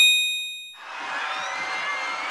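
A single bright bell-like ding, signalling a quiz show bonus question, rings out and fades, followed by a soft shimmering swell.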